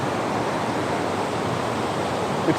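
Kudengrim waterfall in a forest behind a thick canopy gives off a steady, even rush of falling water at moderate level, unbroken and with no voices.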